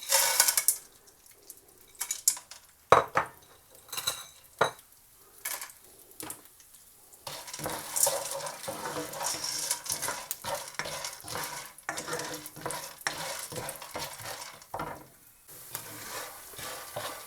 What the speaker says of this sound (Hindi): अब मैंने 1 टीस्पून डाला है घी का, इसमें गोंद डालेंगे।